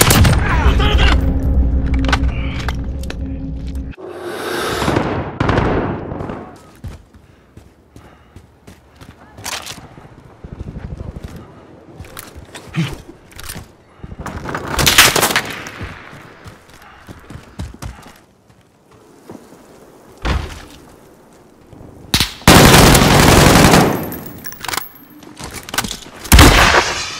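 Gunfire in Call of Duty: Modern Warfare with an AUG, scattered loud bursts and sharp shots between quieter gaps, mixed with booms and movement over the course of the fight.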